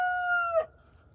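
Rooster crowing near a farmhouse bedroom window: a single close, bright, sustained call ending in a sharp drop, then quiet background.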